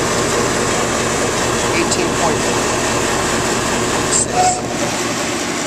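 The compressor of a homemade air conditioner mock-up runs with a loud, steady droning hum throughout, while a voice briefly speaks over it.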